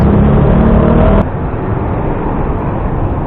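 Cars building up in road traffic near SM Sucat, heard as a loud, close rumble of engines and road noise that drops suddenly and continues as a steadier drone.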